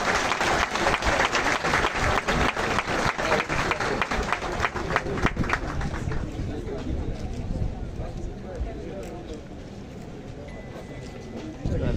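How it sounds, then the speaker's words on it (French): Loud crowd applause at a police academy graduation ceremony, dense and sustained at first, then thinning and fading into lighter clapping and murmuring toward the end. "Applaudissez-le s'il vous plaît."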